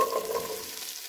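Celery, carrots and onions sautéing in oil for a chicken stew with bacon, a brief steady sizzle heard close up and alone.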